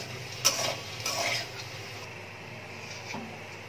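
A spatula scrapes lightly fried paneer out of a pan into a bowl with a couple of soft clinks and scrapes early on, then a faint sizzle lingers in the background.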